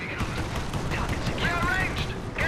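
A Katyusha rocket barrage in Company of Heroes, with dense rumbling explosions and launch whooshes rolling continuously beneath an excited voice talking over the action.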